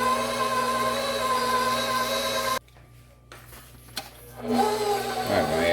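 Electric stand mixer creaming butter and sugar for a brown sugar cinnamon swirl pound cake, a steady loud whirring hum that cuts out abruptly midway, then restarts with a rising whine.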